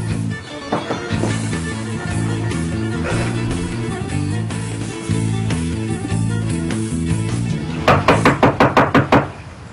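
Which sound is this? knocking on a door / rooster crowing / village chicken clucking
knocking on a door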